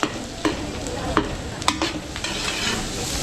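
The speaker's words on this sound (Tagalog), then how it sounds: "Okay, bawang sibuyas mga Beli. So igigisa muna natin." Garlic and onion being sautéed in a pan for a large batch of Filipino party dishes, giving a steady close sizzle with a few scraping stirs of a utensil against the pan.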